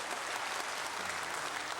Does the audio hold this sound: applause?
yes